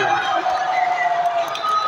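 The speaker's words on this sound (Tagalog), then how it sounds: "The crowd goes wild. And everybody's cheering for 3-yard printers." A crowd cheers and whoops at a table tennis doubles match, a dense continuous roar of voices sustained throughout, loud and slightly distant, with speech mixed into the noise.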